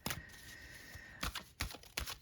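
A deck of oracle cards being shuffled, giving quick papery riffles and taps in short bursts, close and fairly quiet with no talk.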